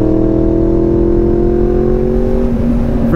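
A motorcycle engine runs loud and steady at high revs, with a quick shifter cutting in on the upshift so the pitch drops briefly partway through and then carries on without a pause.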